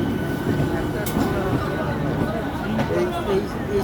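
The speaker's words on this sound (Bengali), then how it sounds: "Howrah Bardhaman cord galloping local কিন্তু হাওড়া স্টেশনের 4 নম্বর প্ল্যাটফর্ম থেকে বেরোচ্ছে" Howrah–Barddhaman Chord galloping local train pulling out of platform 4 at Howrah station, a steady loud rumble of wheels and carriages with the station crowd chattering throughout.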